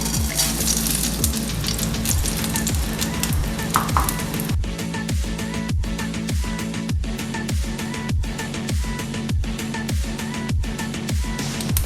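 Mustard seeds hit a spoonful of hot coconut oil, giving a steady, close frying sizzle with dense crackle and sharp popping clicks scattered throughout, under a low rumbling hum, with no talking.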